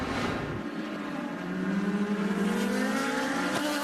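IndyCar race cars sweep past on the Sonoma racetrack during the 2010 Grand Prix, one engine note whining and then dropping in pitch as it passes, followed by the rising howl of another car approaching.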